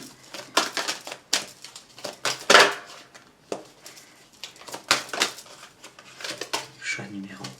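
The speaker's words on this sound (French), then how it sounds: "pendant que je bats les cartes" Tarot cards being shuffled by hand in repeated bursts of soft riffling and slapping, close and moderately quiet, with a few brief spoken words mixed in.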